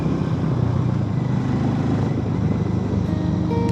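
A Harley Davidson X440 motorcycle cruising along a scenic hill road, its engine a steady, loud, close drone with constant wind rush and no talking.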